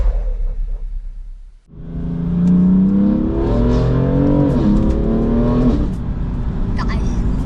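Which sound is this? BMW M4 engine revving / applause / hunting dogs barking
BMW M4 engine revving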